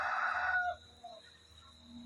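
A Tiger breed rooster crows loudly and close by in one strong call lasting under a second, followed by a few faint clucks and quiet background.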